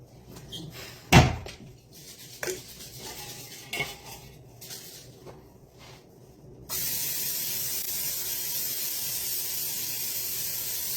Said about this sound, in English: I'm going to go ahead and spray this bad boy